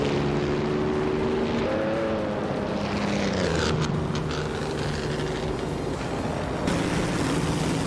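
Mercedes-Benz W125 race car in a racing video game, its engine droning steadily with pitch shifts as it accelerates and changes gear, loud and continuous with no talk.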